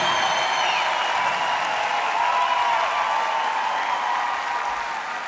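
Sustained applause from a concert crowd at a live show in Visp, steady and dense clapping filling the whole stretch without pause.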